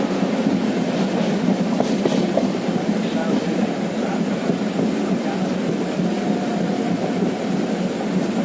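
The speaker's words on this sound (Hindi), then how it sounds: "क्यों ट्रेन ये चल रही है?" A passenger train running on rails, heard as a loud continuous rumble with faint clicking of the wheels, with voices talking over it at times.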